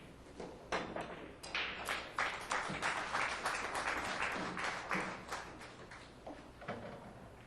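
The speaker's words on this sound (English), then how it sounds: "Here's some applause." Scattered applause rises in a large conference center hosting a 9-ball pool tournament, with many tables in play; sparse claps and taps carry on at moderate, distant level.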